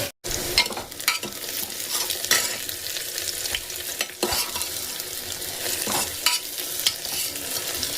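Onions fry in hot oil in a pan, with a continuous close crackling sizzle broken by scraping stirring strokes throughout.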